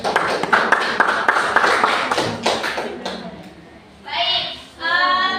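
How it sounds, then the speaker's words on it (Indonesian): Classroom applause for a student group in a microteaching lesson, a burst of clapping and tapping from a room of children, loud at first and then fading. Some chatter runs underneath, and a further short burst of claps follows near the end. "Tepuk tangan kepada kelompok"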